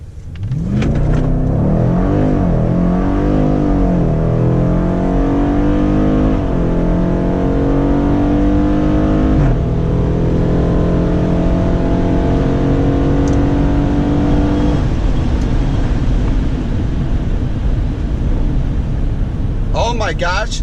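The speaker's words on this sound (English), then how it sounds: "All right, we're gonna try doing the quarter-mile time the second time." A 2018 Dodge Durango SRT launches hard on a quarter-mile run, its engine climbing steadily through gear changes with rising whine, loud and close throughout, then easing off near the end.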